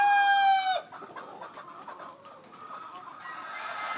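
A Peru-American cross gamefowl rooster's crow sounds loud and close for under a second, then the yard drops to faint clucks and low background noise.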